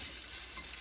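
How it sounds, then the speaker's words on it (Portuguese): Leftover onion fries in a pan outdoors, giving a steady, dense sizzle that stays even and close throughout the short moment, with no talking. "Estou fritando a cebola que sobrou do chachilique."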